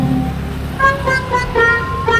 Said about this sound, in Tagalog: Ayun, may tricycle.